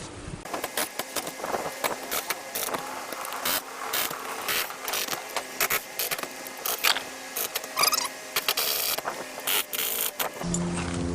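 Screws being driven into a water inlet hatch on a custom Sprinter van, heard as a close, continuous whirring and grinding of a power driver in repeated short pulses with brief clicks between runs.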